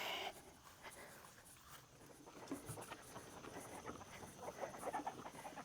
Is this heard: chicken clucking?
yes